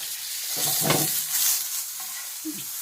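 Sausage sizzles in a frying pan over high heat. A steady hiss is broken by a louder burst of spattering near the start and some soft scraping sounds later, with no voices.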